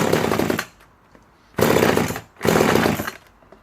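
A vintage Remington Mighty Mite 500 38cc chainsaw fires up in three loud harsh bursts of buzzing engine noise, separated by short gaps of quiet.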